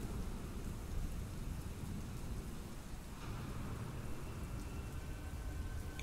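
Steady rain pours with deep thunder rumbling throughout a stormy outdoor scene in a zombie-survival audio drama, a dense continuous wash of rainfall and low rolling thunder with no voices.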